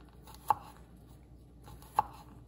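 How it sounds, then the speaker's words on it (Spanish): Garlic is sliced finely with a knife on a board, two sharp, clear chops about a second and a half apart against quiet room tone. "Vamos a ir cortando los ajos, que es más o menos afeitando los que queden bien finititos"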